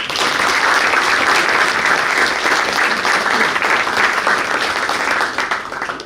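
An audience at a boys varsity basketball banquet claps steadily and fairly loudly, a dense continuous wash of hands that holds for about six seconds and starts to thin at the end.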